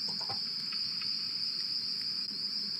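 A steady, continuous chirring of crickets loops in Scratch, a shrill high trill holding at an even level throughout with no voices.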